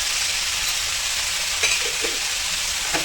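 Tomatoes sautéing in a pan for a bitter gourd thokku, giving a dense, continuous close sizzle with a few faint stirring taps and no voices.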